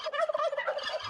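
Turkeys in a video game gobble in a continuous, warbling burst, loud and close with no speech over it.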